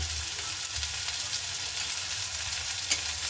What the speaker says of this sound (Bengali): সবার আগে দিয়ে দিচ্ছি পেঁয়াজগুলোকে আগে ভেজে নেব, তার সঙ্গে দিয়ে দিব লঙ্কাটাকেও খুব ভালো মতো করে ভেজে নেব।